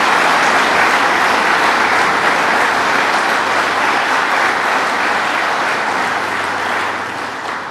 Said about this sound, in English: Let's give her a round of applause, Senator Betty Little.